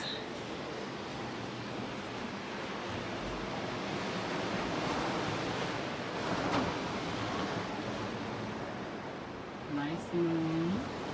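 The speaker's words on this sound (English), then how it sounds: "Can y'all hear the waves?" Ocean surf rolls onto a beach at night in a soft, continuous wash with gentle swells, faint and diffuse, with a brief voice near the end.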